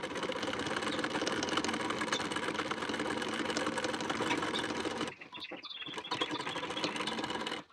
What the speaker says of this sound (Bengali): কলারের ঠিক কানা বরাবর করে একটা সেলাই দিয়ে নিতে পারেন